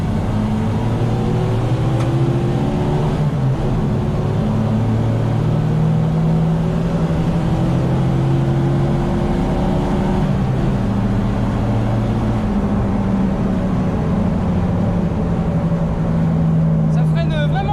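A Renault 20 Dakar replica runs with its engine droning loud and steady at the rear by the exhaust while all four wheels slide. Its pitch wavers slightly under continuous rumble and wind-like noise.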